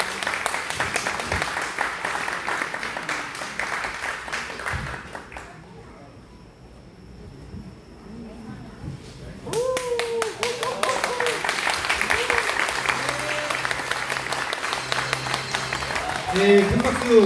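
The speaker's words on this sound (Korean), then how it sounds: "큰 박수로 맞이해주시기 바랍니다." Audience applause at a Korean church choir concert and donation ceremony, a crowd clapping under an announcer's voice, then a brief quiet gap before clapping resumes alongside talking and some background music.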